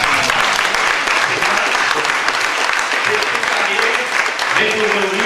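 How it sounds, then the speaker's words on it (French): An audience applauds a European accordion champion, a dense, steady wash of clapping held at full strength for about five seconds, with no voices rising above it. "Vous pouvez l'applaudir"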